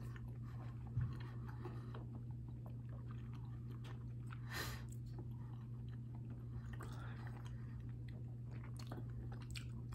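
Chewing gluten-free Chicago style pizza, soft crunching and mouth sounds repeating irregularly close up, faint over a steady low background hum.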